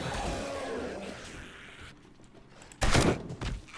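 Gunfire in the zombie survival game 7 Days to Die: a dense stretch of rapid, crackling shots up front, a quieter gap, then a sharp loud burst near the end, with no talking.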